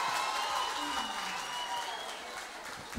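Audience applause fills a live concert at a Hard Rock Café, a full, steady roar of clapping from the crowd that swells briefly at the very end, with faint voices mixed in.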